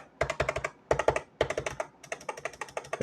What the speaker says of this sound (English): These are the bronze speed bronze switches.